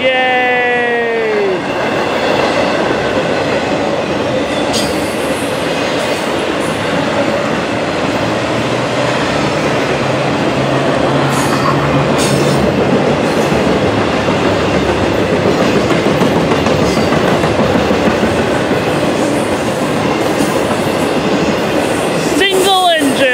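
A single-engine freight train hauling all FedEx trailers rumbles past loud and close at Fullerton, a long steady roar of wheels with clickety-clack and a brief horn-like whine at the start and light squealing at the end.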